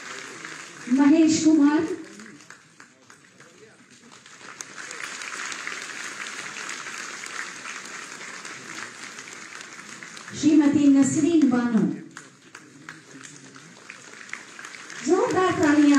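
Steady crowd clapping at a Uttar Pradesh civic ceremony where house keys are handed to new homeowners, running through the whole stretch while an announcer reads out recipients' names over it.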